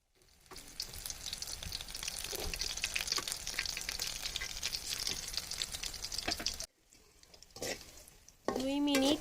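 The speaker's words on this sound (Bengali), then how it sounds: "গরম তেলে কাঁচামরিচগুলো অ্যাড করে দিলাম।" Green chilli pakoras coated in gram flour batter sizzle loudly and steadily in hot oil for several seconds, then quieter clatter and stirring follow, with a brief voice near the end.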